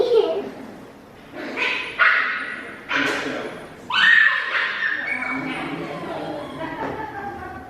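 A dog yips and barks in short bursts at close range while people talk nearby, with playful whimpering sounds between the barks.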